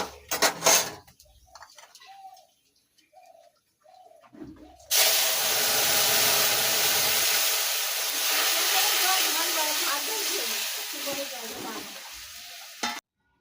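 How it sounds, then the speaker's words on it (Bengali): Mustard seeds and dried red chillies are tempered in hot oil for dal. A voice talks briefly at first, then a loud, close, sustained sizzle with crackling runs for about eight seconds before cutting off. "ডাল ফোড়ন দেবো শুকনো লঙ্কা আর সর্ষে সব ফোড়ন দিয়ে দিলাম আর এত ফাটছে কি বলবো"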